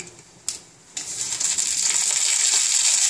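Mustard seeds, urad dal and dried red chili hit a spoonful of hot oil for tempering a citron pachadi, with a sudden hiss that swells into a steady, loud crackling sizzle.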